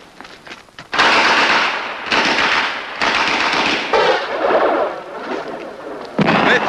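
Grenade explosions in a French action film, a rapid series of loud, close blasts and crackling bursts that follow one another with short gaps over several seconds.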